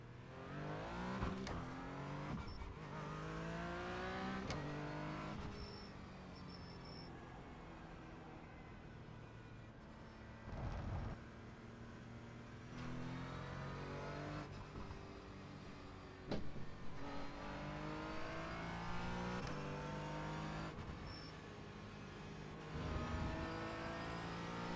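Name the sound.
race car engine in racing video game, Donington circuit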